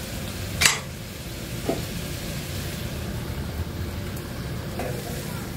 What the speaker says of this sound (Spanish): vamos a dejar un poco más ahí a que se ponga un poquito transparente la cebolla